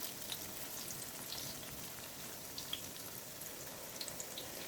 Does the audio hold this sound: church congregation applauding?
no